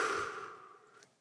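One soft exhale during alternate nostril breathing, close and breathy, fading gradually to near silence.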